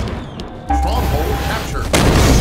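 A grenade thrown in Halo 5 bursts into a loud, close boom that swells suddenly and keeps rumbling through the short burst, with a voice heard just before the blast.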